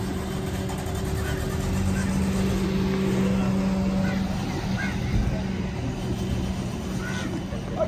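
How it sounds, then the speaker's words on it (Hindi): A car pulls away with a wedding procession, its engine a steady low hum amid crowd noise and voices, the motor fading gradually as it moves off. "ये गाड़ी जा रही है"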